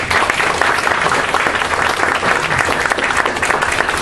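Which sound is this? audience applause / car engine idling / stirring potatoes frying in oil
audience applause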